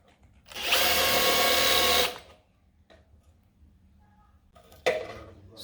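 Power drill boring small holes in a 45 A double pole switch, one loud continuous whirring burst of about a second and a half, followed by quiet handling noises and a short second buzz near the end.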